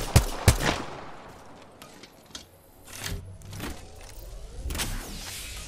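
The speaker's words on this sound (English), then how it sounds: "Yeah, I'm getting shot at." Gunfire aimed at the player in a first-person shooter, a couple of sharp close shots up front followed by scattered fainter bursts and impacts over a low ambient rumble.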